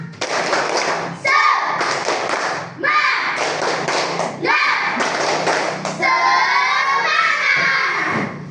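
A group of children in a classroom clap together in a loud rhythmic spirit-clap pattern, chanting in bursts that repeat several times, close and energetic.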